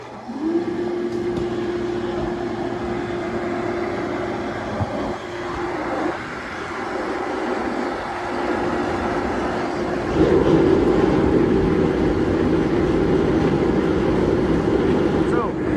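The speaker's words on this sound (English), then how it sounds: "You can kind of see the burners acting up a bit and sputtering" A propane forge with ribbon burners, built from a propane tank for sword making, test fires with a loud, steady roar that wavers and sputters, growing stronger near the end, while someone talks over it.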